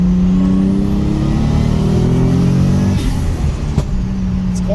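A Mazda FC RX7, left sitting for 12 years, pulls hard in second gear with a loud, steady engine drone whose pitch climbs as it accelerates, close and continuous with no talk.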